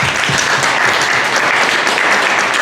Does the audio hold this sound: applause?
yes